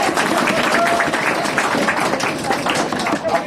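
Audience at a NEET preparation event in Jaipur applauding, a loud dense wash of clapping from a large crowd that holds steady, with some voices mixed in.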